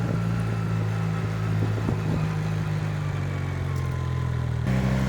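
A vintage motorcycle engine, a Honda or Suzuki under repair and running a little smoky, idles steadily near the microphone with a deep, constant low hum and a slight lift in pitch toward the end, no voices.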